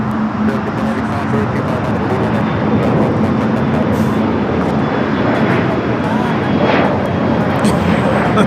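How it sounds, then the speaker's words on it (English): An Air France Boeing 777-300ER arriving at LAX sends a loud, steady engine roar across the scene, continuous throughout with people talking over it. "This arrival, Air France Flight 24, coming in from Paris on the 777-300ER."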